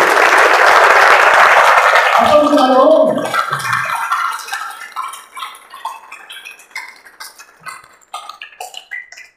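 Audience clapping at an RCM business meeting, a loud dense burst of applause that thins into scattered individual claps and fades away.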